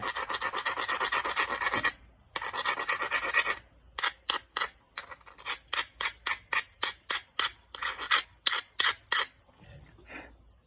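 Glass or obsidian edge rubbed hard against an abrader while knapping, a loud continuous raspy scraping at first, then a run of short, evenly spaced rasping strokes close by, with no talking.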